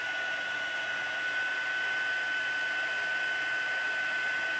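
A heat embossing tool blows hot air to melt embossing powder into Versamark ink on a stamped Christmas card, a steady loud whirring hiss with a constant whine, unbroken throughout.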